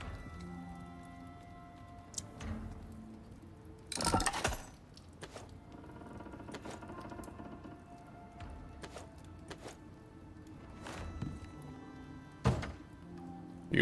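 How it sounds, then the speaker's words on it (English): Crafting a pestle and mortar in the survival game Icarus gives scattered soft thunks, clicks and short rustling bursts over a quiet background, with a louder cluster near the middle. "let's make a pestle and mortar"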